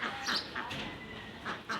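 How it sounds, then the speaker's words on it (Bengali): Ducks being fed on a quiet town morning, giving a few close, short quacking bursts with brief gaps between them and no talk. "দেখেন হাঁসে খাবার দিয়েছে"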